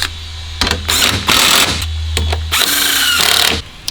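Bolts are tightened with a ratchet wrench while fitting an Eventuri carbon fiber intake on a BMW F92 M8, giving several short bursts of rapid ratcheting clicks with brief pauses, close and loud.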